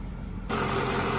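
A warmed-up 1999 Mercedes E55 AMG W210 engine idles steadily at close range, its low hum starting quietly and becoming louder and fuller about halfway through.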